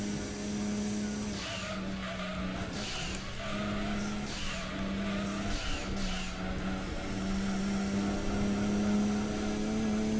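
A race car in the Gran Turismo 2 video game drives a lap, its engine a steady loud drone with pitch shifting through gear changes, tires squealing and skidding through corners, continuous throughout.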